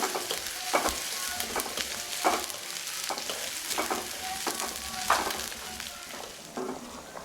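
A tempering of spices with dried chillies crackles and sizzles in hot oil for nihari, a steady close frying hiss broken by repeated scraping stirs, with no talking.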